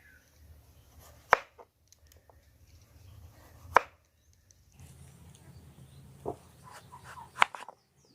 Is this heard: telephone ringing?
no